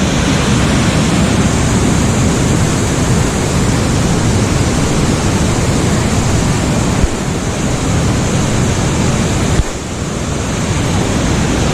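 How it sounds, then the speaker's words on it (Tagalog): Loud, continuous rushing of heavy water released from a dam, a steady roaring torrent close by, with no voices. "Lakas ng tubig."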